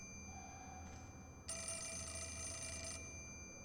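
In Fatal Frame: Mask of the Lunar Eclipse, a room with scattered documents and sinister masks holds an old telephone whose bell gives a short chirp, then a sustained shrill ring lasting about a second and a half over a quiet, low ambient hum.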